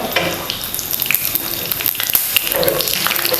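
A green chili sautés in hot oil, giving a close, busy crackle and spatter that runs through the whole short moment with no voices.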